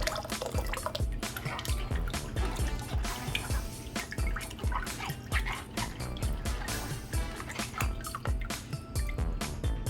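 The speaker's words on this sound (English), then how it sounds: "We're just gonna strain it until we just have nothing but sauce, y'all." Birria sauce dripping and trickling through a strainer in a kitchen, a dense continuous patter of liquid drops, close and steady, with no talk.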